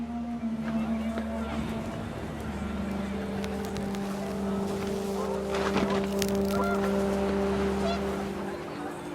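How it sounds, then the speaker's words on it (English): Panicked geese honk in the game What Remains of Edith Finch, scattered calls over a steady wind-like drone and low hum, with a voice speaking quietly beneath. "The wind picked up and panicked geese appeared and quickly went."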